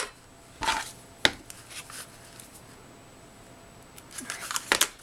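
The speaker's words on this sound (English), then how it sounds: "I see something I need to trim here." Scissors trimming a paper gift card holder: a few sharp, close snips and crisp paper rustles separated by quiet pauses, with a cluster of quick cuts near the end.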